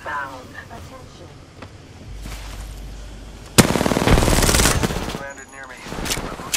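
Automatic gunfire in an Apex Legends match on the Broken Moon map, a sharp burst at mid-clip followed by sustained loud rapid shots, with game voice lines and other sounds around it.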